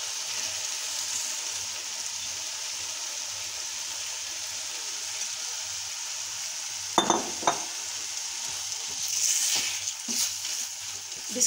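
Soaked yellow moong dal is stirred into frying masala in a pan, giving a steady soft sizzle with a few louder scraping stirs toward the end, heard alone without talk.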